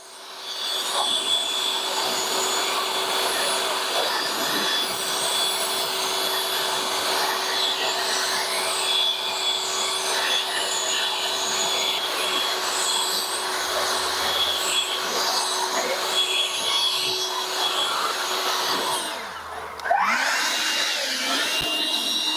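EGO Power+ 765 CFM leaf blower (LB7654) running in high mode, a steady close whooshing roar with a constant whine held for about twenty seconds before a brief change in airflow.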